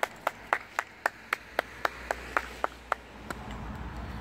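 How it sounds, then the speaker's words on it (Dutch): A single pair of hands claps in an even, steady rhythm, about a dozen crisp claps, fairly close and alone, with no crowd audible. "Wordt hartelijk geapplaudisseerd door al het publiek hier."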